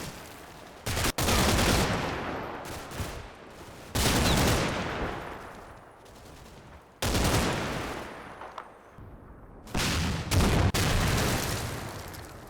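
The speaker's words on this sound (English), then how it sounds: "The big guns start to have an impact." Big guns firing during a Combat Mission Red Thunder battle: several heavy, booming shots come in quick succession, each dying away in a long rumble and echo. The firing is loud and close, with no talking over it.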